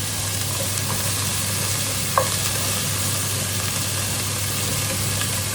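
Capsicum and green chillies fry in a pan for a snack recipe, giving a steady, close sizzle. Stirring runs throughout, with one sharp utensil clink near the middle.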